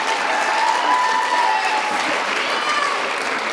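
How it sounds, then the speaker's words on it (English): Audience at an education awards ceremony applauds steadily and fairly loudly, a dense wash of clapping that holds evenly throughout with a faint tonal murmur of voices mixed in. "You can clap for him again, sure."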